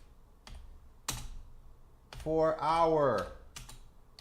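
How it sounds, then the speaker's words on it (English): A few sparse, separate clicks of typing on a computer keyboard, with a person speaking briefly in the middle. "Can you guys see what I'm typing in here?"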